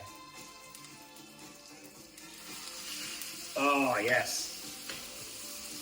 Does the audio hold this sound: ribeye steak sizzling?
yes